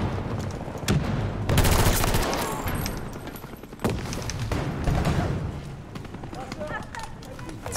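Rapid automatic fire from the VHX weapon in a first-person shooter: dense, loud, close bursts in several waves with short pauses between them, with someone talking over part of it.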